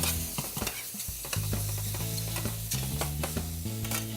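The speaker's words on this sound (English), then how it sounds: "get our shrimp in right away. And we wanna stir that up, get the garlic spread around." Shrimp and garlic sizzling in oil as they are stirred in a pan, constant crackling fry with repeated clinks and scrapes of a utensil, close and busy.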